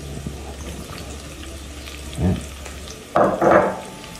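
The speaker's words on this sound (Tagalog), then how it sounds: "Sa ating kaldero, pag mainit na yung ating oil, ilalagay na natin yung ating garlic." Garlic, lemongrass and onion hit hot oil in a pot, giving a low steady sizzle that bursts into louder crackling spurts as each batch goes in, with no voices.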